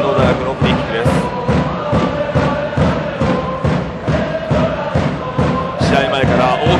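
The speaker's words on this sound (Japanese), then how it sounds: "試合前から大きな歓声が聞こえています福田電子アリーナ。" Stadium crowd noise at a 2016 Kanto university soccer league match between Juntendo and Ryutsu Keizai at Fukuda Denshi Arena: loud, continuous cheering and chanting with steady rhythmic drum-like thumps, and a commentator's voice over it.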